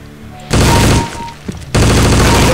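Dense bursts of rapid automatic gunfire in the online shooter game CS Online, fired at targets on a training course, loud and close, coming in two sustained volleys with a brief gap and scattered shots between them.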